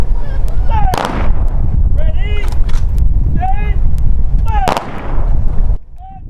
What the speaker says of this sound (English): you just heard the firing of 3 volleys, which is an honor given to a fallen warrior